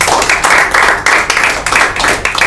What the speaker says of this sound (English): you must clap for them.